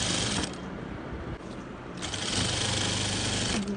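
A sewing machine stitches elastic into a salwar waistband, running in steady mechanical bursts with brief pauses between runs, close and fairly loud.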